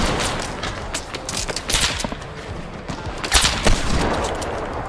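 Rapid bursts of gunfire from a Fortnite battle, dense overlapping shots and fusillades crackling loudly throughout with sharper peaks near the end, no talk.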